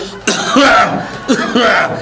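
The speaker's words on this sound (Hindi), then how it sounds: "आपको इतनी खांसी क्यों हो रही है?" Two harsh coughs, close and loud, the second a short burst following a brief pause.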